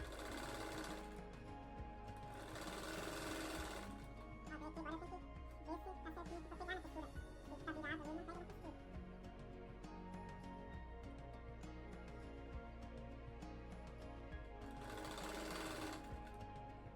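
A sewing machine stitches a patchwork flower rug in continuous whirring runs, up close and steady, with someone talking over parts of it.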